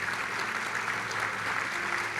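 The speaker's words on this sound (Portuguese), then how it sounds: "Pode aplaudir ao Senhor." A church congregation claps together during a sermon, a steady, even wash of applause at a quiet, somewhat distant level.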